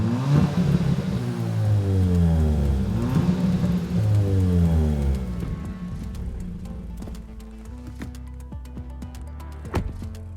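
Kia Ceed GT 1.6 turbocharged gasoline engine with a 7-speed dual-clutch transmission, revving through rising and falling pitch sweeps that repeat as gears change, loud and close at first, then settling to a lower steady drone with a few clicks.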